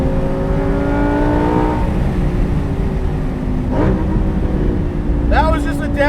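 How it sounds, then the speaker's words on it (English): A Lamborghini Performante Spyder engine drops down from sixth gear in a car cabin, with rising and falling tones and sharp rev blips near the end under a steady road roar, while someone talks over it. "That was just a downshift from 6."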